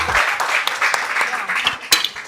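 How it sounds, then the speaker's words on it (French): An audience applauds during a live prize-draw show in the DR Congo, a dense, near burst of clapping with scattered sharper claps lasting about two seconds. "On applaudit!"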